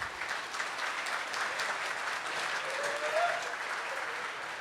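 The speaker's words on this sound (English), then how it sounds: "give her rounds of applause today" Wedding guests at The Bend Event Center in East Moline, Illinois, applaud during the toasts, a steady, even wash of many hands clapping that continues throughout without talk.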